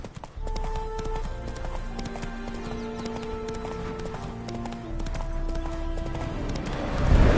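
Steady clip-clop of horse hooves at a walking pace in The Witcher 3: Wild Hunt, close and clear, over a bed of game music with sustained tones.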